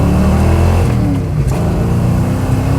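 A junkyard turbocharged Datsun car accelerating, its engine droning loud and close with rising, shifting harmonic tones as it pulls, no voices over it.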